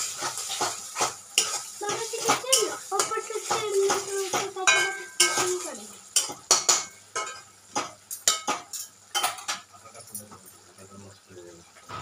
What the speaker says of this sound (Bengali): এরপর মশলাগুলোকে ভালো করে কষিয়ে নিতে হবে।